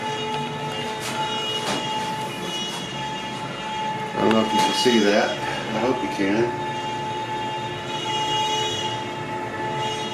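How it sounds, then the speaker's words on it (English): A CNC machine roughing a Paleo Hebrew shield from cherry wood whirs loudly in the background with a steady high tonal whine and grinding texture, while a person talks over it nearby. "Big loud noise you hear is the CNC back there"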